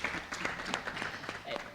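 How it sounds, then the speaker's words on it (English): Audience clapping at a women's investment learning event, a brief, fairly quiet patter of scattered hand claps with some distinct individual claps, heard from a distance. "Clap for that."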